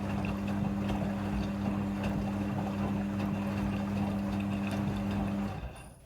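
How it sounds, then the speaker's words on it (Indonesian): A Midea front-loading washing machine runs while washing a bed cover, giving a steady, loud motor hum with a constant low tone and churning noise throughout, cutting off just before the end. "Mesin cuci front loading sudah full automatic dalam mencuci."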